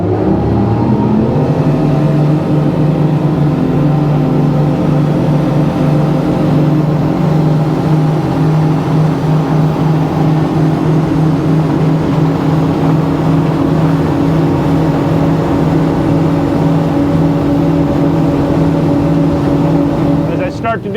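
A boat engine droning loud and steady during a test pull on open water, its low tone climbing gradually at the start and then holding, with talk over it.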